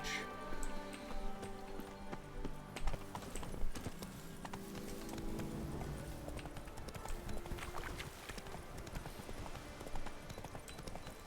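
Steady clip-clop of Geralt's horse Roach trotting in The Witcher 3, even rhythmic hoofbeats with background music and ambience throughout, no voices.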